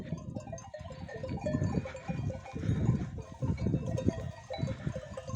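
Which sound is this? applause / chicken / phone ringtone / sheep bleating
sheep bleating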